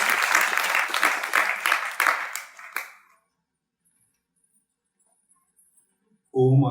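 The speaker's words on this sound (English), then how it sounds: "so I'll give a round of applause" An audience at a temple class breaks into applause, a dense burst of clapping for about three seconds that fades to silence, followed by a voice starting to chant.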